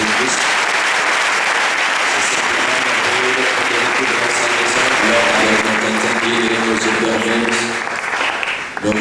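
A church congregation applauds during a Sunday service, with loud, sustained clapping that fills the room alongside voices and music beneath it.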